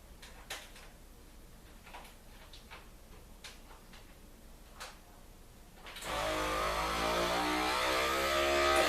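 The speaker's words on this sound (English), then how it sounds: "let's seal this baby up. I'm going to use the food saver here." A FoodSaver vacuum sealer seals a Mylar food-storage bag holding an oxygen absorber. A few soft clicks and taps come first, then the machine's motor kicks on with a loud, steady whirring hum that runs to the end.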